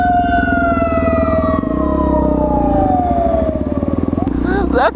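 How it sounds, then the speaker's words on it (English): A fire truck passes close by in traffic while a motorcycle engine throbs loudly underneath. A strong tone glides steadily downward as the truck goes by, and a brief rising whine comes near the end. "That fire truck scared me so bad."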